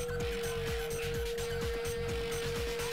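A car racing in Gran Turismo 2 at speed over a crest, with a steady engine drone holding a constant pitch and a regular pulsing rumble underneath, loud and close throughout.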